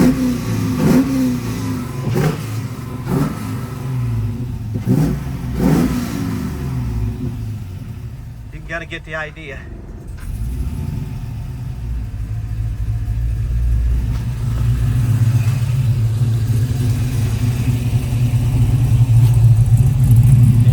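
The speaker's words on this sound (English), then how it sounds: "I got a burnout video I'll put in there." A 1967 Camaro SS restomod with a built LS2 V8 and six-speed revs hard in a burnout, loud repeated throttle blips giving way to a sustained roaring engine that builds steadily louder toward the end.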